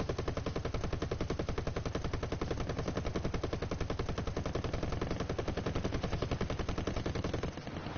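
Rapid aircraft machine guns fire in a sustained burst in a WWII-style plane combat game with American planes, dense and loud for most of the stretch before cutting off near the end.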